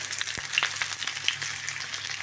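Pork belly frying in a pan, a steady soft sizzle with a few sharper crackles and pops, close by and alone with no voices.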